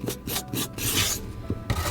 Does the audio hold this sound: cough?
no